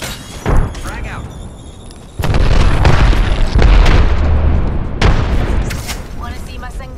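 Grenade blasts in a first-person shooter video game, a sharp boom near the half-second mark followed by a heavy, sustained rumbling explosion that rolls on for several seconds, with further thuds, game effects and a player talking over them.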